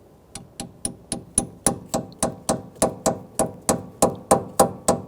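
Steady rhythmic metal taps as a 3/8 1/4-inch deep socket drives a power steering hose seal into place on a 2007-2014 Cadillac Escalade 6.2L V8, about eighteen evenly spaced sharp hammer strikes, close and loud.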